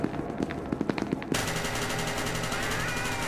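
Rapid automatic gunfire from the SCP: Secret Lab video game, scattered single shots at first, then a sudden dense, continuous burst of fire that carries loudly through to the end with no talk.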